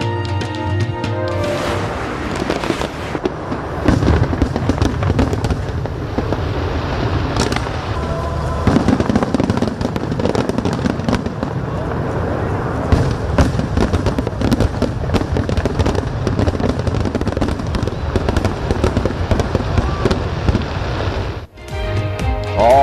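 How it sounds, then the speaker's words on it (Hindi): Fireworks display over the Grand Egyptian Museum opening ceremony near the pyramids of Egypt, a loud, dense barrage of bursts and crackles running steadily for over twenty seconds with no talk. "आतिशबाजी का शानदार मुजाहरा किया गया।"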